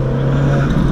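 An Alfa Romeo 4C with a 1.75 liter turbocharged engine makes a loud, close, steady engine drone with a strong low hum, held for about a second without talk.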